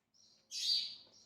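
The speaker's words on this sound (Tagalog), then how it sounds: "Ibon sa labas ng bahay." A bird outside a house gives a brief, faint high chirp that swells into a louder sustained call, heard alone in quiet surroundings.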